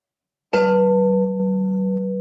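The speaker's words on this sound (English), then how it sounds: "going even deeper and deeper into the stillness as you listen to the meditation bell," A meditation bell is struck once, its clear ringing tone lingering and slowly fading as a long, steady echo with no other sound.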